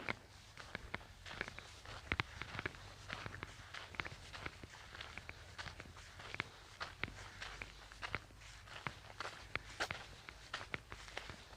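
Footsteps crunch steadily across open farmland, a continuous run of soft, irregular scuffs and crackles close to the walker, fairly faint, with no talking over them.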